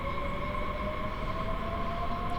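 A long twelve-coach DB BR 430 S-Bahn electric train pulling away on the Frankfurt S-Bahn in Train Sim World 5, a steady loud rolling rumble with sustained motor whine tones, continuous and even throughout.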